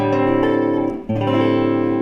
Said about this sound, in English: would you just hold one, strum a chord and just hold it?